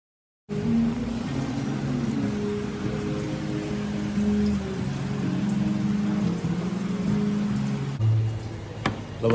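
Steady monsoon rain falls continuously and close by, with a low rumble underneath and a few sharper drops near the end.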